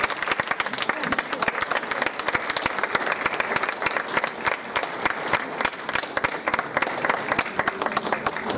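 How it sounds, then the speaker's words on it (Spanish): Audience at a historical talk about a hacienda giving a sustained round of applause, dense, steady clapping from many hands, moderately loud throughout with faint voices mixed in. "quiero que le den un aplauso"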